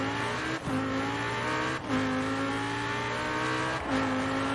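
A 2018 Lamborghini Huracan Performante in Forza Horizon 4 held at full throttle, its engine a loud sustained howl that climbs in pitch, broken by brief dips at three upshifts.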